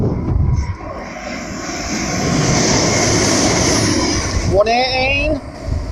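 A Manchester Airport to Newcastle train passes through a station, a loud sustained rumble of wheels and engine that builds and holds, ending with a brief rising tonal whine near the end.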